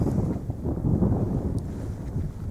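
Wind gusting steadily into a microphone beside a lake makes a loud, continuous low rumbling buffet with no pauses and no speech.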